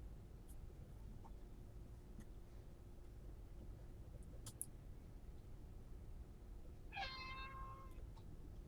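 A cat lets out one short meow near the end, fairly close but quiet, over a faint, steady background hiss in an indoor room.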